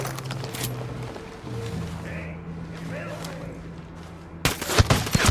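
Gunfire in Ghost Recon Wildlands, a sudden loud burst of rapid shots near the end with voices talking over the game sounds earlier.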